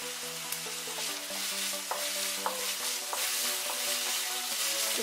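Finely chopped onion and capsicum sauté in hot oil, a soft steady sizzle with light rhythmic taps and scrapes from a spoon stirring the pan.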